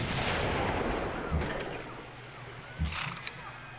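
Cannon artillery fire in Civilization V booms as a heavy blast fades into rumble, followed by a few more distant thuds and cracks.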